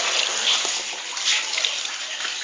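Water pours steadily into a container at home, a continuous bright splashing gush that stays fairly close and even throughout, with children's voices faint or absent.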